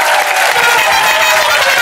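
Studio audience on a French TV game show applauds the winner, a loud, dense burst of clapping from a crowd that holds steady throughout.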